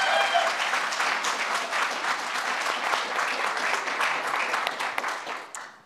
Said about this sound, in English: Let's have a big round of applause for Michelle.